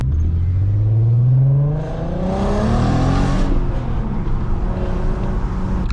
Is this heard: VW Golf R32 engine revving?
yes